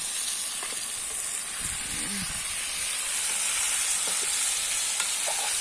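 Chicken back frying in a pot over an outdoor wood fire makes a loud, steady hissing sizzle throughout, with faint occasional stirring knocks underneath.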